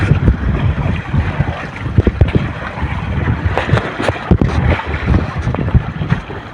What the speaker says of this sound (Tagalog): palakas ng palakas yung hangin master ha